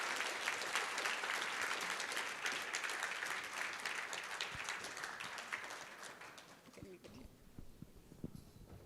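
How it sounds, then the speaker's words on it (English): An audience at an environmental summit applauds, a dense sustained clapping that gradually thins and fades, with a voice starting to speak beneath it toward the end. "A big round of applause to the two of them."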